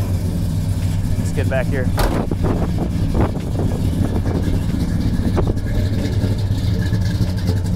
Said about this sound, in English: Let's go ahead and fire it off so you can hear it.